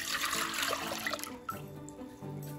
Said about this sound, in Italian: Mettiamo il liquido nella pentola